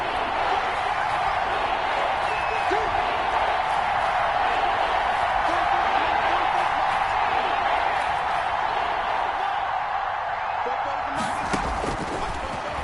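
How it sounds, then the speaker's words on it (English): Crowd noise from a football video game rises and holds steady as a broad, continuous roar throughout, stadium fans building ahead of a big third down with no pauses or distinct bursts. "the crowd getting into it as we come up on a big 3rd down"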